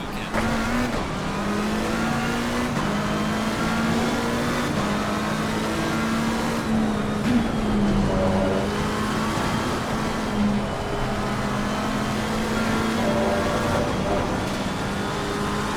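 Race car engine of a McLaren 720 Evo on the Spa-Francorchamps circuit in a racing video game, in wet conditions, droning steadily with rising and falling revs and gear changes throughout, loud and close.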